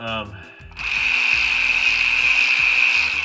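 A power tool spins out a deep transmission bolt on a 2001 Chevrolet Venture with a 4T65E gearbox, a loud continuous whirring drive with a rapid rattling pulse, after a brief start-up burst.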